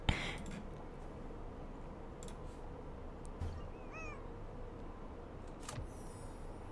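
Cat in a studio giving a couple of short, faint meows amid quiet room tone with occasional soft knocks and rustles.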